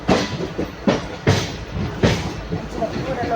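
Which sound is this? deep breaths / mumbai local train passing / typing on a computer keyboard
mumbai local train passing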